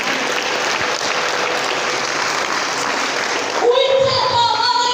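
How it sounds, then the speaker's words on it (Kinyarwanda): A church congregation at a worship service claps together in praise of God, with thick sustained applause for several seconds. It then stops and gives way to tonal music or singing. "Gukomera Imana amashyi cyane."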